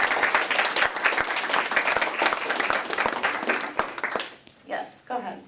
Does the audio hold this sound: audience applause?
yes